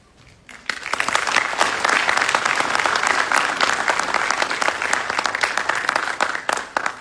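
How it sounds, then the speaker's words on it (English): A graduation audience applauds a drill sergeant leader, steady, full applause rising suddenly and sustained for several seconds, fairly loud and filling the room. "Please join me in a round of applause for the drill sergeant leader of the cycle"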